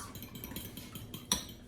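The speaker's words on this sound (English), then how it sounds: "add a lemon juice and whisk together" A whisk scrapes and clinks against a bowl as lemon juice is mixed into wet batter ingredients for popcorn chicken, quiet and rhythmic, with one sharper clink near the end.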